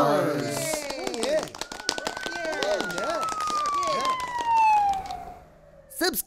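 A cartoon police car siren from a children's colours song wails in repeated rising and falling sweeps over music, then settles into one long tone that slowly drops in pitch before a short burst at the end.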